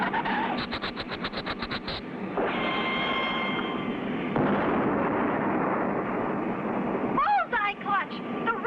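A cartoon rocket roars after a flare and blows up in a long, rushing blast, with a voice speaking before it and another voice speaking after it.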